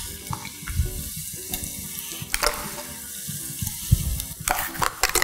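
Ground masala frying in a pan for a roasted-spice fish curry with curry leaves and shallots: a steady close sizzle with occasional stirring scrapes, and no talk.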